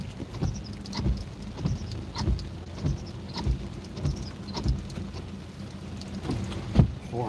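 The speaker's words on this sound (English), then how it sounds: "now it's raining even harder." Heavy rain pours steadily around a catfish and carp fishing spot, with drops pattering on a nearby surface in a constant dense wash and repeated duller thumps, no voices.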